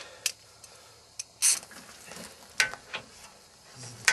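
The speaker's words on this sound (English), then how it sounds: "tighten that up with the ratchet." Ratchet working on the brake caliper of a Dodge Dana 70 axle during a wheel stud install, a few short separated clicks and bursts spread across a quiet stretch, faint and close.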